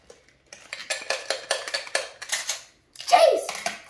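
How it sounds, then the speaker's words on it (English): A razor sharp knife slicing into Funko Pop Soda can packaging, a quick series of close scraping and tapping cuts with a louder rustle near the end, while people speak alongside. "I got my razor sharp knife"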